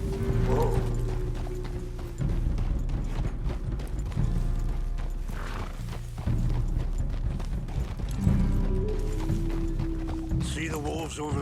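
Horse hooves clip-clop steadily in Red Dead Redemption 2 while riding through open country, a continuous rhythmic patter under game music and dialogue, with a brief horse snort near the end.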